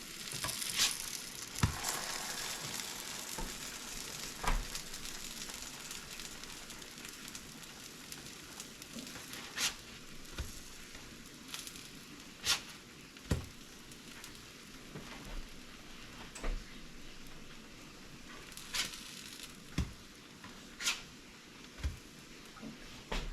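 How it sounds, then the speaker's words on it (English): Blueberry pancakes sizzle and steam in a hot pan, a steady close crackling hiss with scattered sharper pops throughout, no voices. "I don't know if you could hear that thing sizzling."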